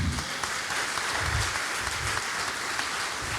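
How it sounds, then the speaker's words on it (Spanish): Audience applause at a church congress, a continuous dense crackle of many hands clapping in a large hall, even and sustained at moderate loudness without talk. "dale un aplauso al Señor, amén"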